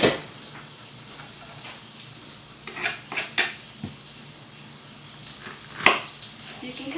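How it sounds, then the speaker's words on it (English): Bacon fries in a pan in a home kitchen, a low steady sizzle under intermittent clinks and scrapes of utensils against the pan, with one sharper knock near the end. "My bacon's cooking."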